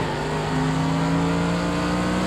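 A race car accelerates hard in Project Cars 2, a loud, steady engine drone whose pitch holds and strengthens slightly over a couple of seconds.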